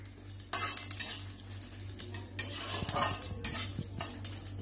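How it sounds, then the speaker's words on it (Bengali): Dried red chillies and curry leaves fry in a pan, with bursts of sizzling and crackle broken by the scrape and clink of a utensil stirring, close and with no talk. "এইগুলি দিয়ে আমি কিছুক্ষণ ভালো মতো ভেজে নেব।"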